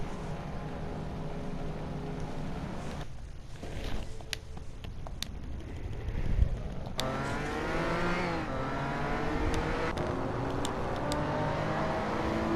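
Several race cars in a racing video game roar off the start line, engines revving and climbing in pitch together as they accelerate, loud and continuous with no talking over them.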